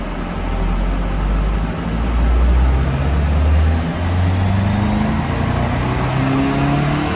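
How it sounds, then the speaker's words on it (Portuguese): Volkswagen Golf GTI MK7 engine revving hard through repeated power pulls with a piggyback tuning module, loud and close, the drone rising and falling in steady sweeps with no talking. "nós vamos fazer algumas puxadas e ver qual que é a melhor potência que vai vir com o piggyback"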